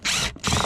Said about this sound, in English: unscrew that with the screwdriver